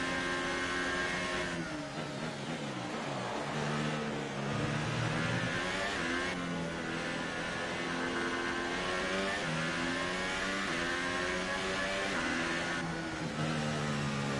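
F1 race car engine from the video game F1 2018, a steady, loud high-pitched whine with rising and falling pitch as it revs through gears, running continuously throughout.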